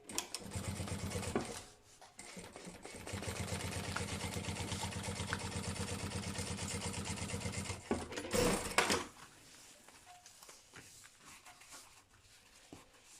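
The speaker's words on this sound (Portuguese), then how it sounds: "vou fazer um pesponto aqui à beirinha" A sewing machine top stitches along the edge of a lunch bag seam, humming steadily and close for several seconds, then stopping with a few handling clicks and quiet room noise.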